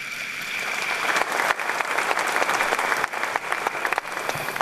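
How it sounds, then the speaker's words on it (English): An audience at an honorific lecture in Ghana bursts into loud, sustained applause, with dense clapping from many hands filling the room and staying steady throughout. "I think this deserves an applause."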